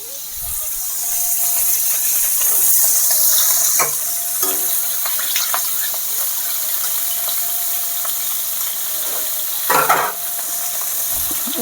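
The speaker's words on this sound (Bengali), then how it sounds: "এখানে ওই কড়াতে দিয়ে দিচ্ছি পেঁপে, আগে থেকে কেটে ধুয়ে রাখা পেঁপে" Pre-cut, washed papaya frying in hot oil with tempering in a kadai, an even hissing sizzle throughout with a few stirring knocks and a louder clatter near the end.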